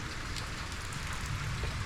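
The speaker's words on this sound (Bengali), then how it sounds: "কিন্তু বৃষ্টি হচ্ছে" Steady rain falling outside in darkness during a rainy-season night, a continuous broadband hiss of drops with no pauses, moderately close and even throughout.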